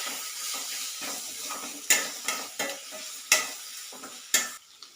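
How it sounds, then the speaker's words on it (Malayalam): Turmeric masala being stirred in a pan for a chickpea curry, with soft sizzling and a run of scraping spoon strokes, several sharper clinks standing out near the end. "ഇതൊന്ന് പച്ചമണം പോകുന്നത് വരെ ഒന്ന് ഇളക്കി കൊടുക്കാം."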